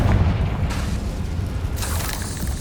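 A Confringo explosive spell goes off in Hogwarts Legacy with a heavy, rumbling boom that lingers, and a second burst flares up near the end.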